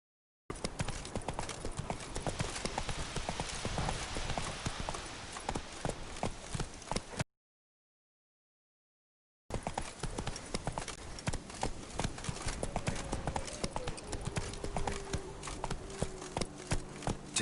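Horse hooves clip-clop steadily in a PS4 video game, a close, rhythmic trotting that drops out for about two seconds mid-clip and then resumes, with a faint tonal game sound in the background.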